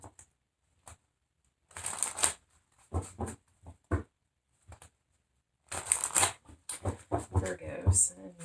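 Tarot cards shuffled by hand in irregular bursts of riffling and flicking, close and moderately loud, separated by short pauses.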